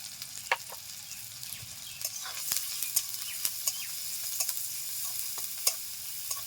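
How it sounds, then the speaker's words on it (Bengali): Chopped onion frying in hot oil with salt and turmeric gives a steady, fairly soft sizzle, broken by occasional sharp scrapes and taps of stirring throughout. "তেল গরম হয়ে গেছে, দিয়ে দিচ্ছি পেঁয়াজ কুচি, একটু লবণ, হলুদ গুঁড়ো"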